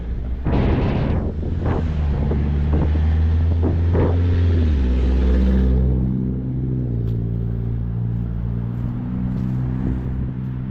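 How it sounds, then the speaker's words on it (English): Wind gusting outdoors on a cold 32-degree winter walk in Lewiston, Maine, a steady low roar buffeting the microphone throughout, with heavier rumbling bursts in the first half that ease into a calmer, continuous rush. "when the wind's blowing like it is right now, it feels cold"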